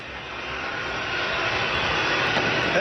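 Military helicopters fly overhead during a street protest, a loud, steady roar of engine and rotor noise that builds slightly and holds without a break, with no voices over it.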